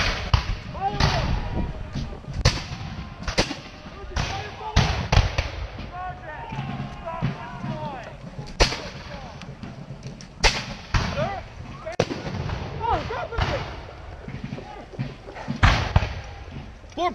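Flintlock muskets at a Revolutionary War reenactment on Battle Road crack in a ragged series of sharp, loud reports spread across the field, separated by pauses, with shouted voices in between.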